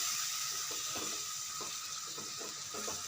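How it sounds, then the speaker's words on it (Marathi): Vegetables coated in sambar masala sauté over low heat, making a soft, steady sizzle broken by faint stirring scrapes in a quiet kitchen, with no voices. "एक 2 मिनिटं आपल्याला परतून घ्यायचं हे मंद गॅसवरतीच."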